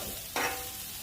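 Onions, peppers and jalapeno hit a cast iron flat top griddle with a sudden hissing burst that quickly settles into a steady, close sizzle, with no voices over it.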